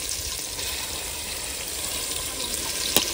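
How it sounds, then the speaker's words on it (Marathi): Chicken curry pieces sizzle in hot oil in a pot over a wood fire, a dense, steady crackling hiss up close, with one sharper pop near the end and no talk. "तर तेलाच्या तडक्याचा पण आवाज यायला लागलेला आहे"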